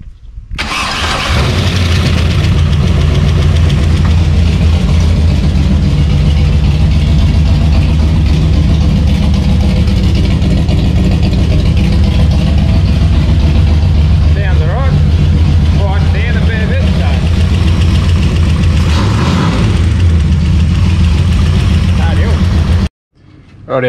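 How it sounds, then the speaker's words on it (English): A V8 engine with a new exhaust in a custom drift car cranks and roars to life, then settles into a loud, rumbling idle with a few revs before cutting off near the end. "haven't heard this thing fire up yet, so with the new exhaust rather"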